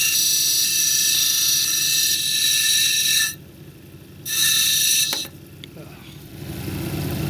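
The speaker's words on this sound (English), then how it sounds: "And we'll start on the 80 grit wheel here." A red velvet agate cabochon is ground on an 80 grit wheel, giving a loud continuous rasping whine that breaks off partway and then resumes.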